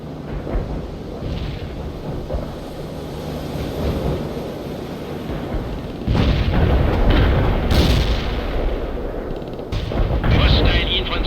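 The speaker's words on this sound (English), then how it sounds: "We're taking heavy fire here." Artillery barrages and gunfire from the PC strategy game World in Conflict, a dense rumbling wash of booms and crackling shots that swells louder midway, with a voice speaking over the battle.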